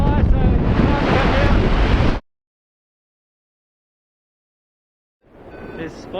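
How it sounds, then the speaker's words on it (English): Loud wind roars against the microphone high above Wagrain in the Austrian Alps during a paragliding race, cutting out abruptly into silence for about three seconds before returning more softly. "Windy day, no westerlies."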